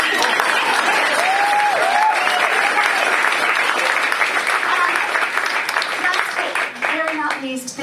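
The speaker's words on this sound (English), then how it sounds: "Let's have a round of applause for her." A live audience at a stage show gives a loud, sustained round of applause that fills the room and begins tapering off near the end, with scattered voices and cheers mixed in.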